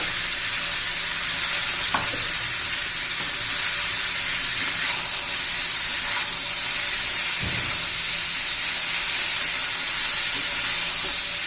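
Mixed vegetables with cabbage and wet rajma sauté in a pan, giving a steady, loud sizzle throughout with a few soft stirring knocks and no talking.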